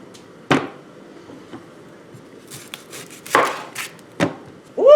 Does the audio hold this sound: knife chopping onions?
yes